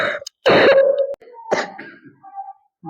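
A child coughs in a few short, dry bursts with gaps between them, close and fairly loud, with a brief voiced moan mixed in.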